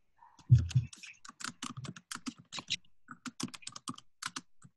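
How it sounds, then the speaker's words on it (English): Rapid typing on a computer keyboard, a steady patter of clicky keystrokes with a heavier thump near the start, close and clear. "I hear typing."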